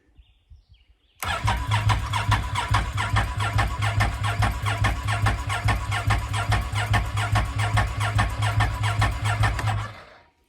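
A Mitsubishi Outlander's engine cranks without catching, a rapid, even, chugging starter rhythm that is loud and close for about nine seconds and then stops, with nothing before it but quiet.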